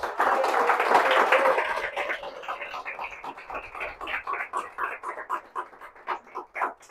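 Church congregation at Altar Campo Limpo applauding, a loud dense burst of clapping that thins into a looser, rhythmic pattern of claps over about seven seconds.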